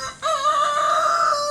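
A native rooster in a Philippine backyard flock crows once, a loud, close, drawn-out call lasting over a second, alone without voices.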